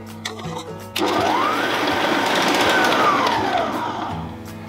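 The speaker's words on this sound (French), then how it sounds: "on va battre les œufs avec le sucre pour bien les blanchir et les faire doubler de volume" Electric hand mixer whirring steadily as it beats eggs with sugar in a bowl, a loud close motor drone with beaters churning, starting abruptly after a short lead-in of kitchen clatter.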